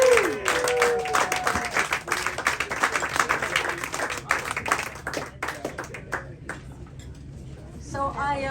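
An audience applauds a band at Pangea, a dense burst of clapping and some cheering that thins gradually into scattered claps, with a voice speaking near the end.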